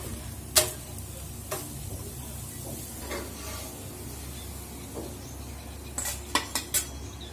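A masala amboli is lifted from the pan onto a plate: faint scrapes and sharp metallic clinks of a spatula against the pan, scattered sparsely over a quiet kitchen background hiss.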